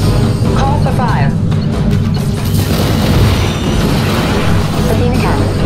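Deep booming explosions from Athena cannon strikes in the real-time strategy game Red Alert 3 Uprising, rumbling heavily throughout amid battle noise, with radio-style voice chatter over the top.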